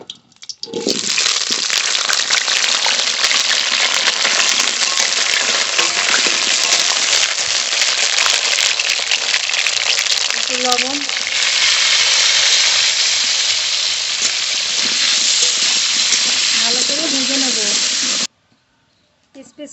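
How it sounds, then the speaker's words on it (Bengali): Potatoes fry in mustard oil in a wok, giving a loud, steady sizzling hiss that runs almost unbroken for about seventeen seconds before stopping abruptly. Faint voice-like sounds appear briefly underneath. "কড়াইতে সর্ষের তেল দেব ফুলকপির ধোকার মধ্যে আলু দেব তাই আলু ভেজে নেব"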